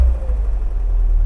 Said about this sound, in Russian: А вот тишина, только движок слышен.